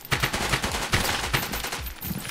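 Rapid automatic gunfire from a weapon in the shooter game Web3War, a dense run of loud, close shots with a steady rhythm across the whole stretch and no talk over it.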